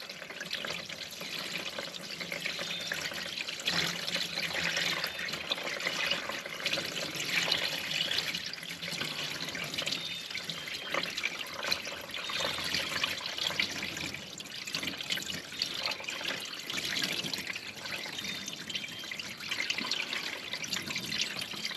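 Water runs steadily from a tap into a metal pan, a continuous splashing trickle with no pauses or voices.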